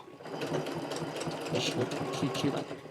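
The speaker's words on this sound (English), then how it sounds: "I'm going to keep sewing" A sewing machine stitches fabric for a Halloween witch hat, a close, steady mechanical chatter that runs continuously, with a voice talking faintly underneath.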